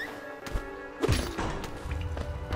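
Heavy thuds and a crashing impact as a switch gets smashed in Hollow Knight, a sharp hit near the middle followed by rumbling knocks and clatter, with game sounds continuing underneath.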